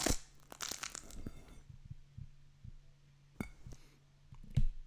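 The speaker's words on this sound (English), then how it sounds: "we have this dragon fruit and nice sounds." AI-generated ASMR sounds of dragon fruit: close, crisp crunching and crackling with a dense burst at the start, then scattered sharp snaps and crunches over a quiet background.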